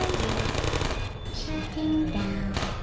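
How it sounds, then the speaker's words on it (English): Portal video game turrets fire at the player in a rapid, continuous rattle of shots lasting nearly three seconds, loud and close, with tonal game sounds overlaid. "oh no, they're shooting me"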